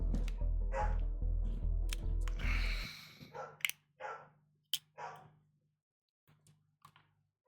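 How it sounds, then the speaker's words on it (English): A dog barks repeatedly, loud and close, a fast run of barks that thins into scattered, sharper yips and then falls quiet. "Dog."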